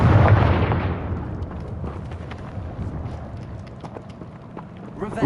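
A Confringo fire spell explodes in Hogwarts Legacy on PS5: a loud, close blast opens with deep rumble, then decays into a crackling, low roar scattered with small pops, and a fresh burst rises at the very end.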